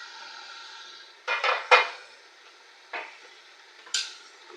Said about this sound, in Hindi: 5 मिनट के बाद इसका कवर खोल के चेक करते हैं।